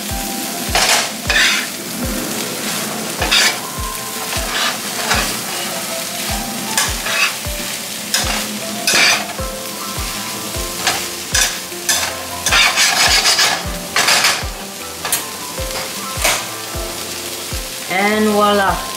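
A utensil scrapes and stirs through sizzling food in a pan while garlic powder is added, with a regular rhythm of sharp, close strikes over a steady frying hiss and a few clinks of cookware.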